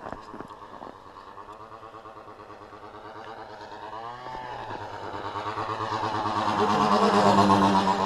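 A Husqvarna 45cc chainsaw engine powers a radio-controlled model plane in flight, a buzzing two-stroke drone that slowly rises in pitch and grows louder over several seconds.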